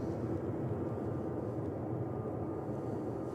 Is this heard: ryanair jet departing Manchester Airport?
yes